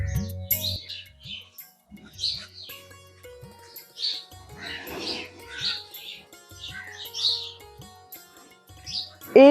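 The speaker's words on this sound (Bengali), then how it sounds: "আর হচ্ছে পাখির কিচিরমিচির শুনতে পারবেন" Small birds chirp and tweet in short, scattered calls among trees beside a lake, fairly close and clear over a quiet background with a low repeating thump.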